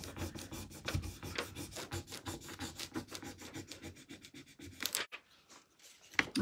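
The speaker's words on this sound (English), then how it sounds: "now got to burnish it down" Burnishing a bird transfer onto raw wood for a porch leaner, a steady run of close, dry rubbing strokes in quick rhythm that slow and stop near the end before one last scrape.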